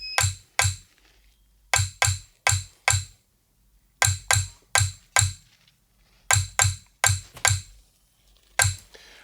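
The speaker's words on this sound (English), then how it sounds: "the Glock, I feel like it's my favorite instrument because I made it myself" A homemade glock percussion instrument played alone sounds out in sharp metallic clinks, struck in quick groups of two to four hits with short gaps between, close and dry.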